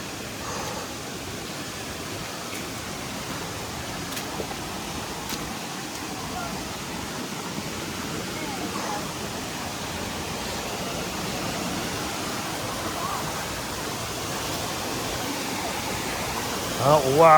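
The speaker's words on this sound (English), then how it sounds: "Hear the waterfall?" A waterfall in the Amazon rainforest gives a soft, even roar heard from some distance, steady throughout with a small swell at the very end.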